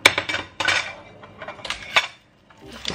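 A plate for serving cherry sponge cake is set down in a kitchen amid several close, bright clinks and clatters of dishes and cutlery, with a short quiet gap near the end and no talking.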